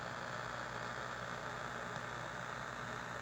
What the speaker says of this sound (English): heterodyne whistle in it right now.